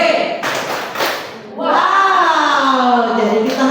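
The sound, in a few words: group clapping the 'tepuk wow' clap chant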